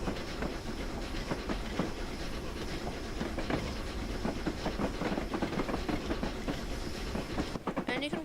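Flying Scotsman steam express train in Train Simulator, running steadily with rhythmic clickety-clack of wheels over rail joints and a constant rumbling hiss, loud and continuous.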